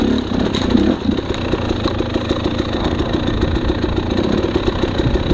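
A 2018 Husqvarna TX300 carbureted two-stroke dirt bike engine runs steadily, loud and close, with a busy ragged idle-like throb and no voices.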